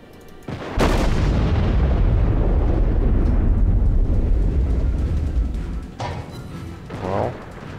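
Naval gunfire in World of Warships from a US cruiser and battleship duel: a sudden heavy boom swells into a long roaring rumble that fades, followed by further sharp blasts near the end.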